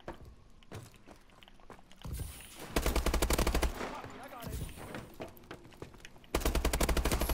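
Bursts of automatic gunfire from the video game Call of Duty: Advanced Warfare, loud rapid volleys separated by quieter stretches, with someone talking during the gameplay.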